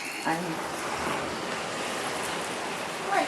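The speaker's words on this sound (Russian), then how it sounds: "как море шумит красиво сегодня" Sea surf washing onto a beach in Thailand, a steady broadband rush that fills the whole stretch, with slightly stronger swells near the start and end; no one speaks over it.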